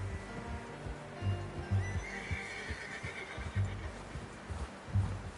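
A horse in Red Dead Redemption 2 whinnies and snorts in short bursts over low hoof thuds and a steady outdoor game ambience, the calls fairly close and moderately loud.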